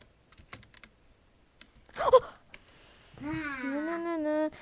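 Computer keyboard keys click in a few light, scattered taps during Roblox play, quiet and close, followed by a voice.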